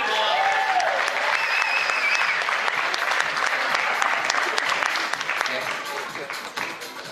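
Audience applause for pageant contestants at a cultural wear show, a dense, loud wash of many hands clapping together that holds steady and then tapers off toward the end, with a few voices and cheers mixed in.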